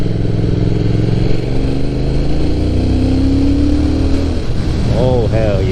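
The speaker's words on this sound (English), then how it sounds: "This engine really wakes up after 35 and 4K" A motorcycle engine revs hard on a mountain road in Okutama, Japan, droning loud and steady with rising harmonic pitch that climbs again near the end, while wind rushes past throughout.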